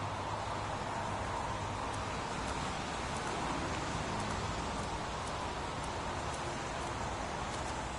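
Steady, dense rain falls outdoors in Heavy Rain, a continuous even hiss with soft scattered drop patter that holds at moderate level for the whole stretch, no voices.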